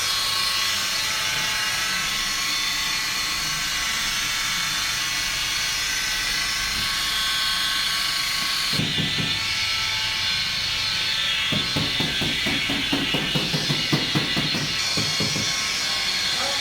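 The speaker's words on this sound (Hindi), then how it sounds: "अभी इसका पॉलिशिंग चल रहा है।" A polishing machine works over the body of a 2025 Maruti Suzuki Baleno, a steady whirring hum that turns into rougher buzzing, rattling bursts in the second half, close by and continuous.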